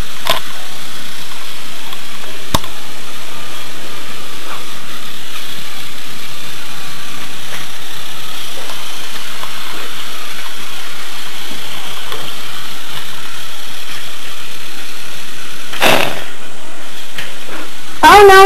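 A small motorized toy train whirs with a steady, close hum, broken by a few sharp clicks and a rattle near the end.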